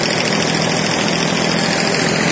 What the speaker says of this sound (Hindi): देखो ट्रैक्टर भी बिल्कुल नॉर्मल चल रहा है भाइयों, कोई लोड नहीं मान रहा